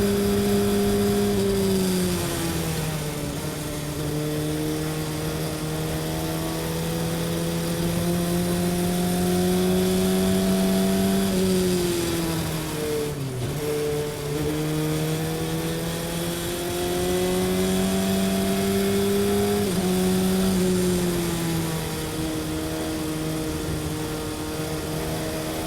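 Race cars lapping a track, a steady droning engine note that rises and dips as the cars brake and accelerate through corners, continuous and moderately loud from a distance.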